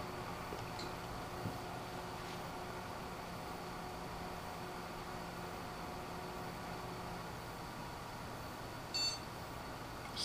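A computer with a Gigabyte G1.Sniper2 Z68 motherboard gives a single short startup beep near the end, heard faintly over a steady hum of fans.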